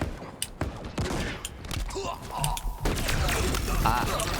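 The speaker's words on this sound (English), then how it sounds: "Why are we using small arms against an aircraft?" Rapid small-arms gunfire in Halo Infinite, fired at an aircraft, comes as dense bursts and cracks that build into near-continuous shooting over a busy game soundscape.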